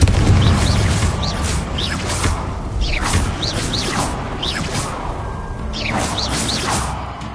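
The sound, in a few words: spell casting effects (Confringo, Glacius) in video game Hogwarts Legacy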